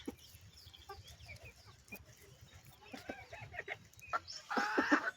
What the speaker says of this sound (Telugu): మన దగ్గర ఉండే కోళ్ళు ఇవే ఫ్రెండ్స్.